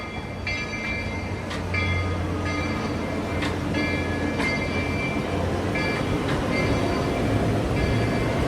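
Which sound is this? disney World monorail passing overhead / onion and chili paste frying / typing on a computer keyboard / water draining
disney World monorail passing overhead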